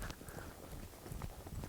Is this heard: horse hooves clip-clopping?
yes